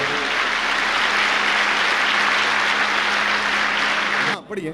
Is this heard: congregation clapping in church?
yes